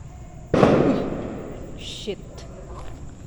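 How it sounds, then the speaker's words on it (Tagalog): A single sharp firecracker bang, loud and close, followed by a fading rumble and faint voices in the background. "Gulat ako sa paputok."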